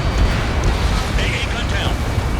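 A loud, continuous roaring blast fills the scene as an anti-air gun is destroyed in the combat flight game Ace Combat 7, a dense rumbling wash with no voices over it.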